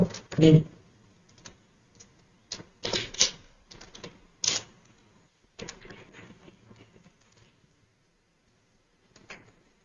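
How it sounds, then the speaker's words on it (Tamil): Typing on a computer keyboard: scattered bursts of close key clacks separated by quiet gaps, loudest near the start and tapering off toward the end, with no voice. "name, phone number, mail, date எல்லாத்தையுமே டைப் பண்ணிட்டேன்"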